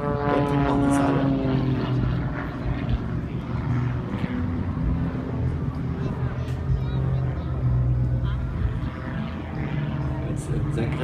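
An Extra 300 aerobatic propeller plane flown through manoeuvres at the Erfurt airport festival airshow, its engine droning loud and continuous with shifting pitch, while a commentator talks over it throughout.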